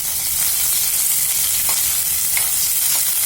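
Thick-cut capsicum and onion frying lightly in a kadai pan for raw jackfruit curry, a loud, even sizzle filling the whole stretch with faint scraping touches of a spatula, nearby and uninterrupted.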